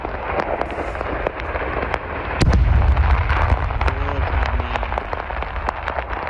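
Explosions at a weapons depot in Rostov rumble and crackle in a continuous barrage, with sharp pops scattered over a heavy low roar and one bigger blast swelling partway through, heard at a distance with no voices.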